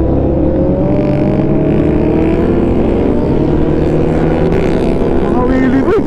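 Big bikes, including a Honda CB650R and a Ducati Streetfighter V4 S, roar past on a mountain road, loud continuous engine drone with rising revs and wind, close to the microphone.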